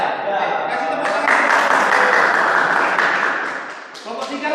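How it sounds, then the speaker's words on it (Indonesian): A group of classmates clapping for a presenting team in a classroom, dense and steady for several seconds, with a sharper swell in the middle before tapering off near the end. "Kasih tepuk tangan dulu buat ya"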